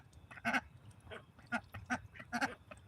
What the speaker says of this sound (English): that one that's making a noise doing her head up and down, that's a duck greeting